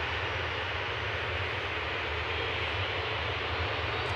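A Ryanair airliner departing Manchester Airport for Memmingen roars loudly and steadily, a broad continuous jet engine noise close by with no talking.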